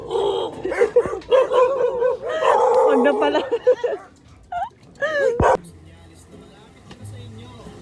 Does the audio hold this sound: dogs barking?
yes